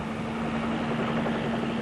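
Helicopter flying over the Persian Gulf during wartime, a steady rotor and engine drone with a constant low hum, continuous and fairly loud throughout with no speech.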